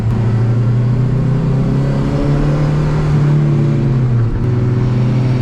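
A 600bhp Honda Civic Type R sleeper drones loudly and close, its engine note holding steady and rising slightly as it accelerates, with no talk over it.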